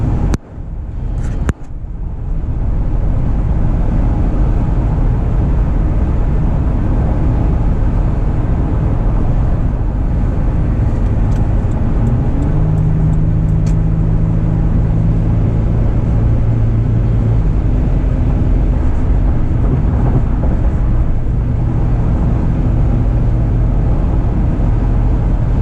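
Steady road and wind roar inside a 2018 Toyota 4Runner with a Vivid Racing tune cruising at 75 mph, a loud, constant low drone with a brief knock near the start.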